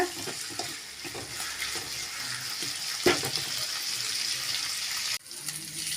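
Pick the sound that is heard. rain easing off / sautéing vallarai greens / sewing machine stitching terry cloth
sautéing vallarai greens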